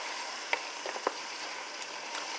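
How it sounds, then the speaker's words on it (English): A pot of homemade chili with diced tomatoes, tomato sauce and beer simmers with a soft steady bubbling sizzle, broken by a couple of brief spoon knocks and scrapes against the pot as it is stirred. "So this is cooking really good. I'm going to stir it in really good."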